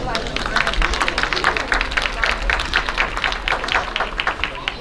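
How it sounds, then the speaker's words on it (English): A small crowd gives a steady round of applause for the junior livestock showmen at a county show, dense clapping held for several seconds with faint murmur underneath. "So we'll give them a round of applause."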